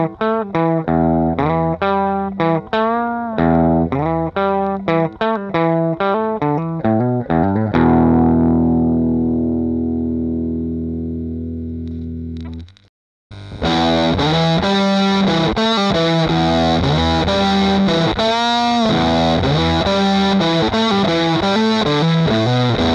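Electric guitar played through a minimal breadboard-built overdrive distortion pedal circuit into a clean preamp channel, fuzzy distorted riffs, then a long sustained chord fading to silence before heavy distorted playing resumes.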